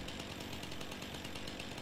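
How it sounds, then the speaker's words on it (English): A chainsaw in the farming video game Farming Simulator 19 runs steadily while cutting down signs, a loud continuous buzzing drone with no voices over it. "let's go put my chainsaw away."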